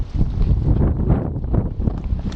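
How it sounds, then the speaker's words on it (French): Strong outdoor wind buffeting the microphone with a steady, loud rumbling roar that gusts and swells throughout, with no voices. "Il y a beaucoup de vent là."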